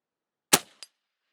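A single sharp crack from an Airforce Escape .25 caliber air rifle fired over a chronograph, followed a moment later by a short, fainter metallic tick, with no talking.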